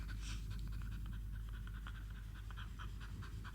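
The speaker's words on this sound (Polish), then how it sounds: "To jest moja bratnia dusza, ten pies." A dog pants close by with quick, rhythmic, breathy huffs over steady outdoor background noise, with no talking.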